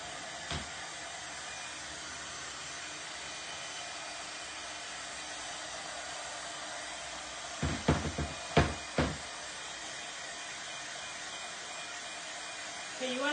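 A hair dryer blows steadily on a craft project, a constant close airy whoosh running the whole time, broken only by a few short knocks and clicks partway through.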